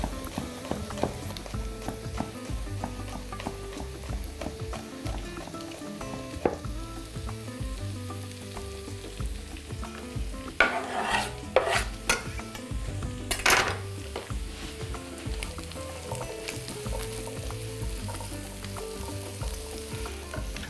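Crushed, finely chopped garlic crackles in a hot pan while being stirred, with a steady sizzle broken by scraping and clattering of a utensil against the cookware.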